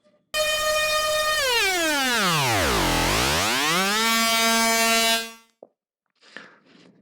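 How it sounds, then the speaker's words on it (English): A buzzy synthesized tone from a comb filter sweeps steadily downward in pitch as its frequency is turned, bottoms out, then glides back up before cutting off, followed by faint rustling. "the comb filter frequency parameter sets the pitch of the tone"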